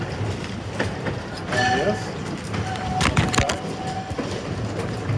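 A trolley rumbles along rails nearby with rhythmic clattering and a brief squealing tone, while people talk over it.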